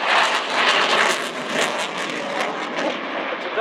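A Polish Air Force MiG-29 Fulcrum fighter jet flies an air display at RIAT 2013, its steady loud engine roar sweeping past at a distance, alone and without voices.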